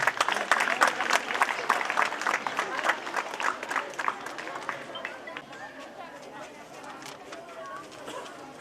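Students at a school cycle distribution event run by a Rotary Club clap together, a dense, steady burst of applause with crowd murmur underneath that gradually thins and softens toward the end.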